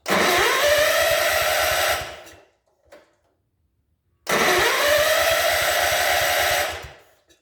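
A small John Deere engine cranking into a high, buzzing run for about two seconds, cutting out, then catching again for a second steady run before dying, close and loud.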